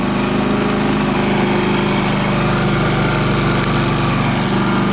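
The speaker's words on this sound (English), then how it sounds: "That shuts off the generator on gas, but as you can see, it's not doing anything with the propane going." A Champion 3500 watt dual fuel portable generator running on propane, a steady, loud, close engine drone with an even mechanical hum that never changes over the whole stretch.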